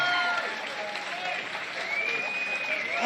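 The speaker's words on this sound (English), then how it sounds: "a big round of applause to both fighters for a fantastic opening contest" Steady applause from a crowd at a combat sports fight event fills the clip, with a voice faintly audible through it.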